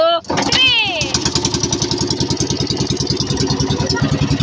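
A small engine sputters to life after a pull, then settles into a fast, steady idling chug, loud and close, with voices talking over it.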